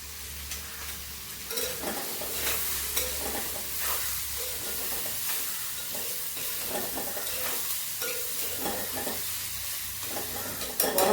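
Ivy gourd mezhukkupuratti stir-fries in a pan, a constant close sizzle with a soft hiss and repeated scrapes and clatters as the mix is turned.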